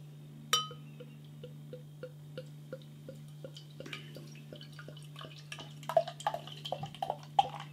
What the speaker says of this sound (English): let's get this beer out into a glass, see what we get